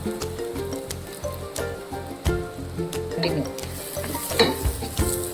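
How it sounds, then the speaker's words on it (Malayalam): Spice powders for a Kerala crab roast (coriander, pepper and masala powder) frying and being stirred in a pan, with a steady sizzle and repeated scraping strokes of the spoon, close and fairly loud. "ഇളക്കി കൊടുക്കാം. പൊടി ഇപ്പോൾ ഒന്ന് മൂത്ത് വന്നിട്ടുണ്ട്."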